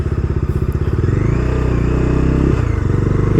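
Bajaj Dominar 250 BS6 motorcycle ridden at about 60, its engine a loud, close, steady throbbing drone with a slight rise in pitch midway, heard without speech.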